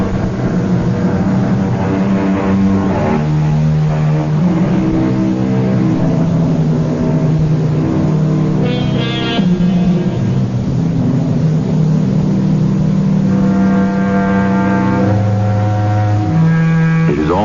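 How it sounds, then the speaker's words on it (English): A finely tuned sports car approaching from the distance on a deserted midnight highway, a sustained keening engine drone that swells and shifts pitch steadily, heard alone without voices. "Off in the distance, we hear the keening of a finely tuned sports car."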